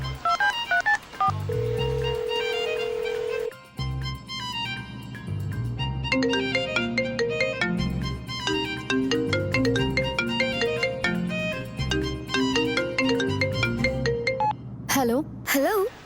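A phone number is keyed in with a quick run of touch-tone beeps, followed by a ringback tone, all fairly clear and close, with a voice speaking briefly around it.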